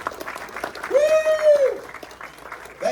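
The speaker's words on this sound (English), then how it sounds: "Now give yourself a round of applause." Applause and cheering from the audience at a motivational talk, heard under a voice that lets out a long, rising and falling whoop, with the clapping swelling toward the middle.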